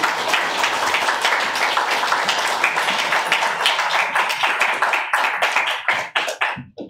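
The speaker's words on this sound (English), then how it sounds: "Suzanne Lummis, everyone, another round of applause." Applause for a poet at a poetry reading, a modest crowd clapping briskly and steadily before thinning out to a few scattered, closer claps at the end.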